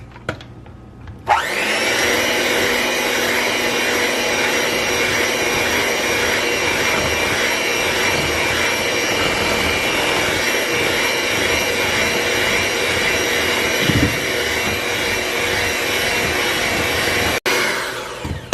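After a brief quiet start, an electric mixer switches on and whirs steadily and loudly through cheesecake batter with all-purpose flour added, a constant motor whine that cuts off near the end, with no talking.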